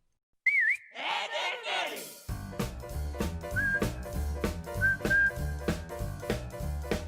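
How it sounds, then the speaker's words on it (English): A whistled tune from the Ed, Edd n Eddy theme song opens with a short clear melodic line, then drums, bass and piano kick in with further whistled notes over the upbeat music. "Who knew whistling a tune could be so catchy?"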